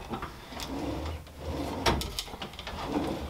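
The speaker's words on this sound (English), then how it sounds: "We've got three drawers here." A Baltic birch cabinet drawer in a tiny house on wheels slides open or shut with a few soft wooden knocks and scrapes, quiet and close, with no talking.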